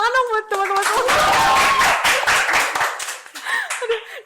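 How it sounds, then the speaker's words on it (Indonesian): Small group clapping for friends in a casual Indonesian podcast studio, a dense burst of handclaps after a voice at the start, then fading into scattered claps as talk resumes near the end. "Tepuk tangan dong buat teman-teman."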